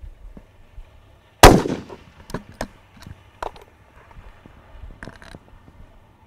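A single loud, sharp 7mm rifle shot cracks out on an 800-yard F-Class range, followed by softer clicks and handling noises and a few distant thumps.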